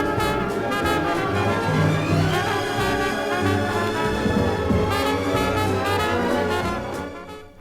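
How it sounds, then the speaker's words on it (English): A symphonic orchestra and a jazz band play at once from the same 1963 stereo record groove, two programs overlapping into a dense, continuous, clashing wash of music that fades near the end. "two separate programs of music which sound like this when played together at the same time by the same stylus in the same groove"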